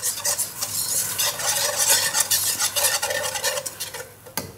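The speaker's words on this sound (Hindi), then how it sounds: "अब मैं इसको चारों तरफ इसको कोट कर दूँगी, बीटर से गोल गोल घुमा लेंगे।" An egg is beaten and swirled around a hot pan with a beater while cooking egg fried rice, a steady scraping, stirring rattle over a sizzle that runs throughout, close and fairly loud, stopping abruptly at the end.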